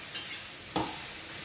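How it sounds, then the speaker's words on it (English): Onions and garlic browning in olive oil in a pan give off a steady, soft sizzle with a brief stirring scrape partway through; no one speaks. "we're going to kind of brown the onions and garlic"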